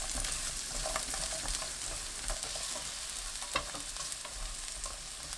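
Garlic stir-fries in two spoonfuls of cooking oil in a pan over medium heat, a steady soft sizzle with a scraping spatula stirring throughout, fairly quiet and close.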